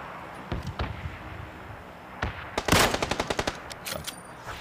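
Gunfire in a shooter video game: a few scattered single shots, then a rapid, loud burst of automatic fire followed by more spaced shots over a constant background of game noise.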